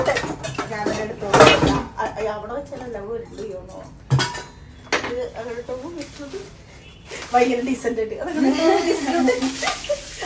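Dishes, pots and pans clatter and clink while being handled and stacked away in a home kitchen, with sharp knocks recurring through the clip under near, steady conversation.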